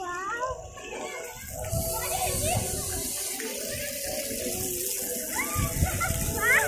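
Water rushes and splashes continuously at a family outing spot in Poicha, Gujarat, while several voices call out and chatter over the steady flow.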